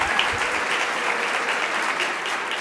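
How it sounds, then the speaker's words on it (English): Brief burst of steady audience applause at an awards banquet, a room full of hands clapping evenly and fairly close. "give a round of applause for Smoke"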